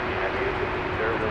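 Airbus A300 airliner taking off from runway 18 left at Dallas Fort Worth airport, a steady broadband engine roar with a low tonal hum, continuous and fairly loud throughout.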